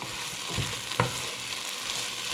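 Onions and curry paste fry in a pan for a sweet potato, chickpea and spinach curry, giving a steady close sizzle with a couple of soft scraping stir strokes, no voices.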